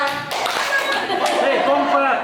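Classroom group clapping together in a teacher-led clapping game, a dense burst of many hands slapping at once, fairly loud and close, with voices mixed in.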